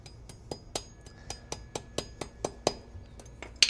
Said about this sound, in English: We'll just hammer it back in because that's what we do.